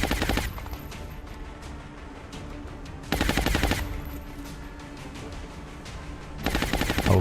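Rapid machine-gun bursts from an enemy gunner in the video game XCOM Long War, three loud rattling volleys spaced a few seconds apart, with quieter game ambience between them.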